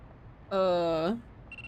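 A phone in the video game Yuuyami Doori Tankentai gives one loud electronic tone of about half a second, bright and buzzy and ending on a falling pitch, followed by a short faint beep.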